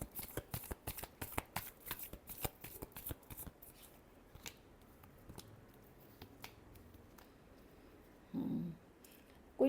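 Tarot cards are shuffled in quick riffling bursts, crisp and close, for several seconds. They thin into scattered soft flicks and a brief low rustle near the end.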